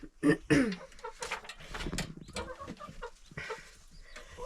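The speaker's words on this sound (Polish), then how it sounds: "Rasa kury Grinchel, jaką tutaj widzicie" A Greenshell breed hen clucks in short, close bursts, with a couple of sharp calls at the start followed by softer, continuing clucking and rustling.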